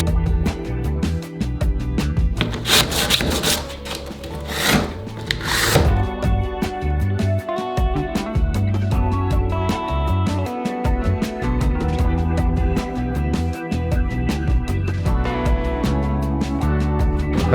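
Painted furniture panels being rubbed down by hand with sandpaper: dense, rhythmic scratchy strokes that keep going without a break, close up, with a few brief brighter hisses early on.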